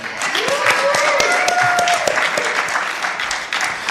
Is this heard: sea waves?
no